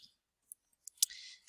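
Computer mouse clicks in a spreadsheet program, several faint, sharp, separate clicks at close range against a quiet background.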